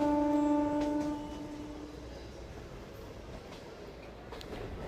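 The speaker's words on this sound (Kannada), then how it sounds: "ಹುಬ್ಬಳ್ಳಿ ದಕ್ಷಿಣ ರೈಲ್ವೆ ಸ್ಟೇಷನ್ನ ಸ್ಕಿಪ್ ಮಾಡ್ತಿದೆ ನಮ್ಮ ಟ್ರೈನ್." A MEMU commuter train runs past Hubballi South station near Hubballi, a sustained tonal horn at the start fading into a steady low rolling rumble of the carriages; no one talks.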